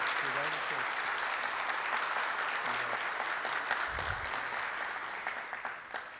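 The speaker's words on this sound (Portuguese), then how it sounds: "eu gostaria que vocês dessem mais uma vez uma salva de palmas ao Roberto" An audience claps for Roberto at an anniversary celebration, a sustained mid-distance wash of hands that fades gradually toward the end, with faint voices murmuring underneath.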